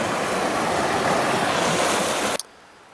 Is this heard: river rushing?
yes